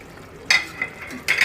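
Peas and spices stirred into a tomato masala for aloo matar vegetable biryani, with brief sizzling bursts and a couple of spoon scrapes over a quiet background.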